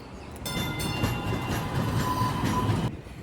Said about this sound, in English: I'm here at the train station just waiting for my train